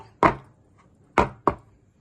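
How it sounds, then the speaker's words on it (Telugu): A cake tin filled with eggless rava cake batter is tapped on a surface, giving three sharp, close knocks: one, then a pause, then two in quick succession. "కేక్ గిన్నెలో ఈ కేక్ మిశ్రమాన్ని వేసాక 2 సార్లు ఇలా ట్యాప్ చేయాలి"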